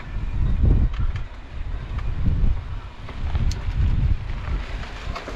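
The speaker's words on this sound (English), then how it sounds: "We get a pretty big wind up here." Strong wind on an exposed hilltop near Farewell Spit, New Zealand, buffeting the microphone in heavy, uneven low gusts throughout.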